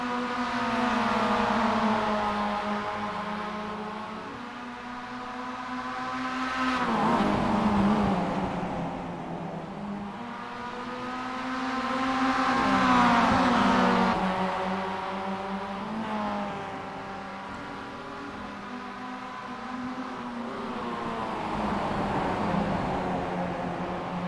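Spec Miata race cars run side by side on track, engines droning and rising and falling in pitch as they pass through gears in long repeated waves, moderately loud with no talk.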